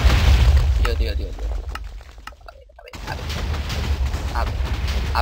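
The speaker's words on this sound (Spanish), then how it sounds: "Hay algo explotando por ahí" A heavy boom goes off in Minecraft at the very start, followed by rumbling debris. The noise fades to near silence, then picks up again with a rough, noisy game background.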